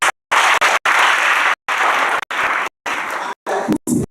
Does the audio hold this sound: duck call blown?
no